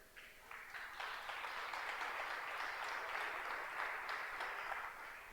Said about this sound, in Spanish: dándole palmas fuertes al Señor.